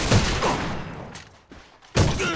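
Gunfire from a sniper rifle in the shooter game AVA comes as sharp close bursts, one near the start and another loud crack near the end, with quieter game noise in between.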